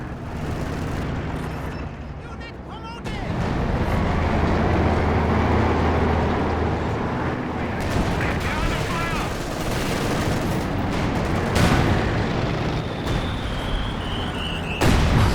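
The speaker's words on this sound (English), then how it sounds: "did you hear that mortar shell?" A mortar shell explodes amid the ongoing battle roar of a Company of Heroes 2 match, a loud, dense wash of gunfire and blasts with a sharp surge near the start and another late burst.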